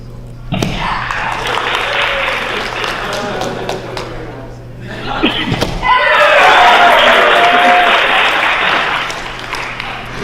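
Crowd at a sword-fighting tournament final erupting in loud cheers and applause in two bursts, the second swelling and sustained, with sharp thuds and claps close by and voices mixed in.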